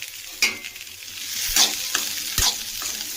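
Ingredients sautéing in a pan for a South Indian brinjal curry, with sharp spatula scrapes and clicks against the pan over a continuous sizzle, loud and close, no speech.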